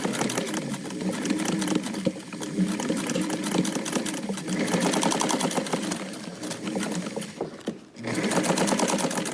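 A sewing machine stitches a garment hem in a fast, steady rapid-fire rattle, running continuously with a brief pause near the end before starting up again.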